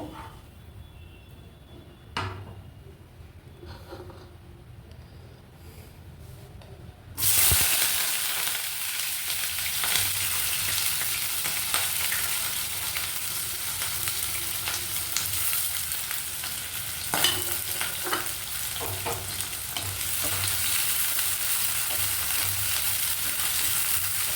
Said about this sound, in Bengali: তেলটা গরম হয়েছে, এবার একে একে সব দেব।